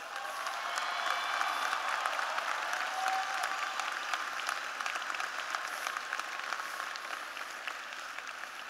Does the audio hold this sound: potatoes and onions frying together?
no